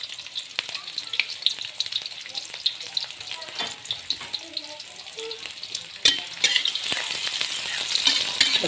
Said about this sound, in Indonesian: kita tumis bawang putih sama bawang bombay